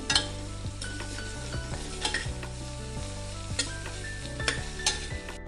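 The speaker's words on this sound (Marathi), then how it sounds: "हिंग हा तेलावर टाकूया कांदा परतून झालाय" Asafoetida and onion frying in hot oil, a bright crackling sizzle under repeated metal clinks and scrapes of a spoon against the pan, heard close with no speech.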